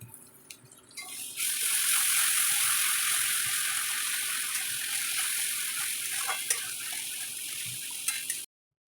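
Onion and green chili paste hits hot oil in a pan with a sudden loud, sustained sizzle that holds steady for several seconds before cutting off.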